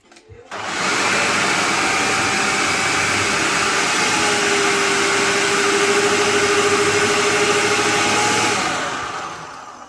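Food processor with a blender attachment mixing a dressing, its motor starting abruptly and holding a loud, steady whirring drone for about eight seconds before winding down near the end.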